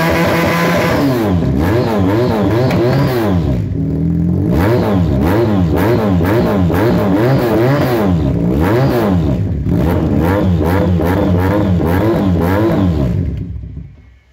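A carburetor-fed motorcycle engine is revved repeatedly during a sound test, loud and close, rising and falling in quick throttle blips over a steady idle for about thirteen seconds before cutting off.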